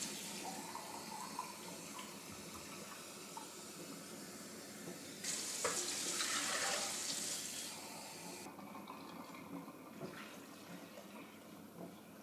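Tap water runs into a pot for tangelo marmalade in a home kitchen, a steady rushing flow that swells louder for a few seconds before easing back to a quieter trickle.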